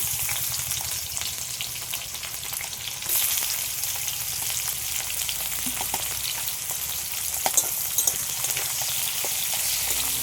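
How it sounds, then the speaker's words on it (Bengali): Chopped onions with cinnamon and cloves frying in hot oil for pepper chicken, a continuous crackling sizzle held close and steady, with occasional stirring clatter and no voices. "এগুলোকে একটু হালকা করে ভেজে নেবো"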